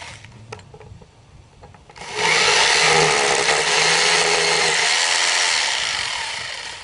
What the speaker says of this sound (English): and then just go ahead and drill the hole.